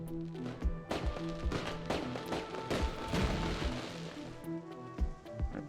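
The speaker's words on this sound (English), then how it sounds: "That's a lot of fireworks" Fireworks in the Surviving Mars video game burst in a rapid irregular series of thuds and crackles, fairly faint, with tonal game music humming underneath.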